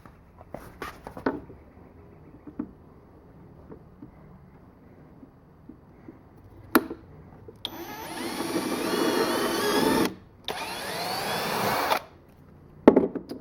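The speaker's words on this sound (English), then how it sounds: "So I'll need to drill a hole through this plastic here." A few taps and clicks, then a power drill whines loudly in two sustained bursts through plastic on a mower deck, pausing briefly between them, close by with no speech.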